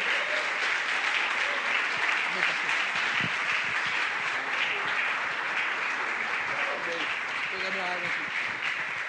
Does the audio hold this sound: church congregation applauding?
yes